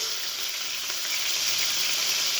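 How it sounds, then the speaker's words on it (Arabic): Kofta mixed with garlic, onion and parsley fries in a pan, making a steady, close sizzle and hiss that continues unbroken through the short stretch. "غادي نقلي فيها الكفته اللي كنت رحيت فيها ثوم، حبه بصله ومعدنوس"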